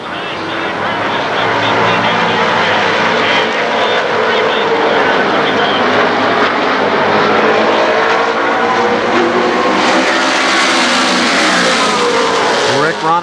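Race cars roar past at Winchester Speedway as the green flag starts the season opener, a loud, continuous engine drone from the full field, with a track announcer calling the action over it.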